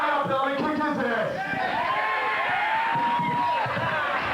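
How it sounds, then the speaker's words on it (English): A wrestling arena crowd cheers and whoops for a favored wrestler at a live independent show, a dense roar of many voices throughout with a commentator's voice riding on top. "Now, crowd showing their support for Big Dick."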